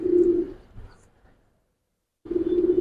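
A female Giribaz pigeon coos close by: one low, resonant note trailing off, a brief silence, then a second coo starting up.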